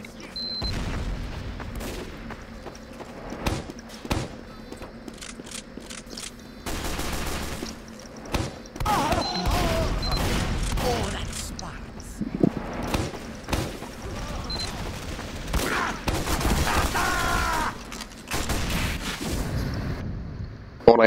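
Gunfire in a Team Fortress 2 match, with dense bursts of shots and booming blasts coming in waves over a steady game background, loud and close.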